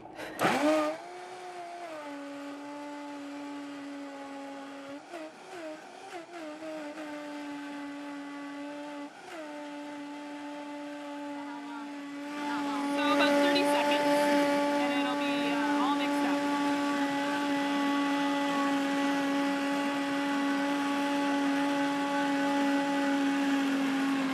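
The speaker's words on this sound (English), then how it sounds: "All right, we're going to blend this up. I have a Vitamix blender, so it's a little powerful." A powerful Vitamix blender runs continuously, its motor whine steady at first, then surging louder and rougher partway through as it churns a thick chocolate mousse mixture; close and loud, with no talk.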